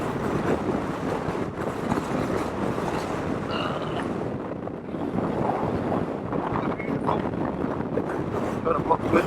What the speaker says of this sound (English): It's pretty bloody windy.